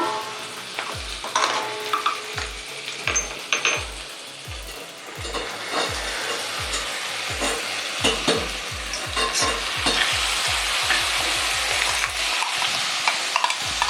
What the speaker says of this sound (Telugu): బాగా వేగిపోవాలి మునగాకు అండి.